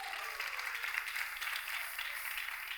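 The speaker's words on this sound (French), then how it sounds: "On peut applaudir très fort, s'il vous plaît" Audience applause at a televised dating show, a faint, even wash of clapping that sounds distant and holds steady throughout.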